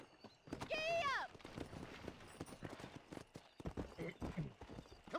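Horse hooves clip-clop at a quick riding pace in Red Dead Redemption, preceded by a brief whinny, with game characters talking over the steady beat of the hooves.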